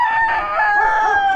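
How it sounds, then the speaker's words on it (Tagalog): Chickens and roosters on a farm in Amadeo, Cavite, with a loud, close rooster crow held throughout amid other fowl. "Literal na puro manok."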